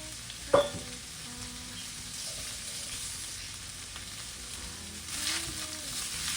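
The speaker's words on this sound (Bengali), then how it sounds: "এবার ভাতটা দিয়ে ভালো করে ভাজা ভাজা করে দেবো।" Leftover stale rice frying in a pan, a steady close sizzle with a sharp utensil clack near the start and light stirring scrapes toward the end.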